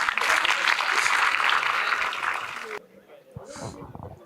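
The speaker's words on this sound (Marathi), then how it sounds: "चला एकदा टाळ्या वाजवा आर्यासाठी" Standup comedy audience breaks into loud, dense applause that fades out after a few seconds, followed by a voice speaking in a quieter room.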